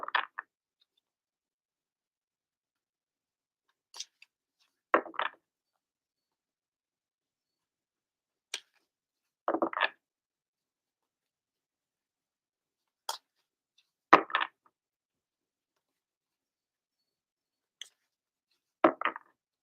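Cards are shuffled in short, crisp riffling bursts, roughly every few seconds, close and quiet against near silence.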